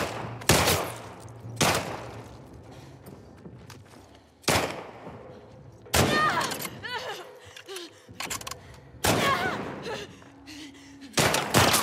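Loud bursts of gunfire in The Last of Us Part II, about half a dozen sharp shots spaced unevenly a second or more apart, with some talking between the blasts.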